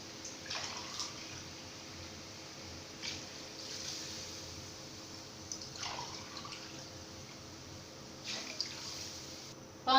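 Glasses of water are poured into a pot of chicken biryani, four or five separate faint splashing pours spaced a couple of seconds apart, quiet and close.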